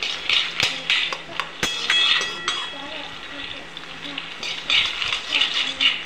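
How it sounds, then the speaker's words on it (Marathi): Peanuts roast in a dry pan, stirred with sharp clinks and scraping of a utensil against metal at an uneven pace, with a faint rustle beneath. "शेंगदाणे मस्त भाजायचे।"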